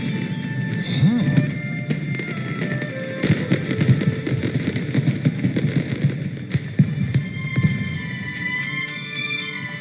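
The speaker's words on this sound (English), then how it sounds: "A fireworks show?" Fireworks show in Genshin Impact, a video game, with a rapid run of popping bursts and crackles spread over the scene, fairly loud, with sparkling tails fading between blasts.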